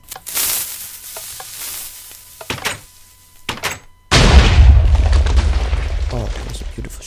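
A Minecraft cannon fires and explodes: sparse clicks and short pops at first, then a loud booming blast about four seconds in that trails into a sustained crackling rumble to the end.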